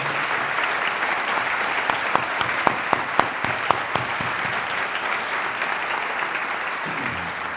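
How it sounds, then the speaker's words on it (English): An audience at a high school orchestra concert claps for the sound crew in the booth, a dense sustained applause with a few sharp nearby claps standing out. "if we could clap and appreciate them, that would be really awesome"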